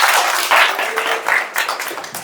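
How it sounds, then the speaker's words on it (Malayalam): An audience in a career guidance class for students claps together, a dense, steady burst of applause lasting a couple of seconds with small swells, no voices standing out. "അമ്മക്കൊരു കൈയടി കൊടുക്ക്."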